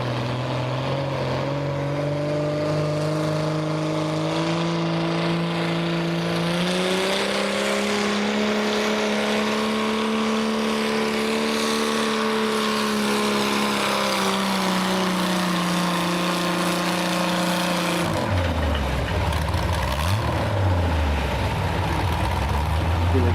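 A tractor-pulling tractor engine roars at high load, holding a strong droning pitch that swells and dips before dropping sharply near the end, loud and close throughout.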